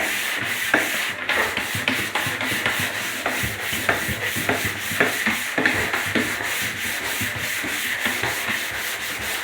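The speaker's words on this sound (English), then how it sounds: "Maybe a little light sanding." Sandpaper rubs lightly by hand along edges during bathroom work, a steady run of short rasping strokes close by, with no talking.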